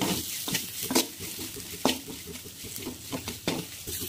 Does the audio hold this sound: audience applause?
no